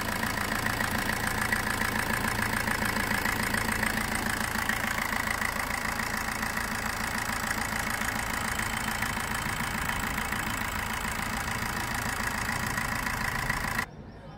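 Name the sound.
Maruti Suzuki Swift VDI 2013 diesel engine idling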